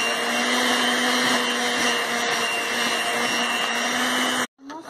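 Oat polvorones batter being beaten by an electric mixer, a loud steady motor whir with a constant pitch that runs without a break and then cuts off abruptly near the end.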